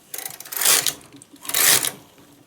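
A knitting machine knits two rows of a knotted shawl scarf in two long, loud swishing passes of the carriage across the needle bed, each with a rattling mechanical rush, close by and without talk.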